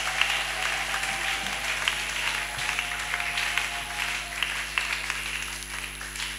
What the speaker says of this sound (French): Acclamez-le avec joie.